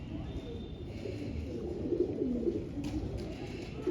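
Pigeons of an old family breed coo softly in a few rolling, throaty bursts against steady low background noise, close but faint, with no voice over them.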